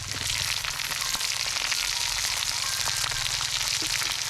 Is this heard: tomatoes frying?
yes